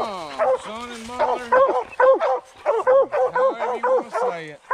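Two coon dogs on a hunt, barking and yipping close by in a rapid, repeated series of sharp barks with some whining between them.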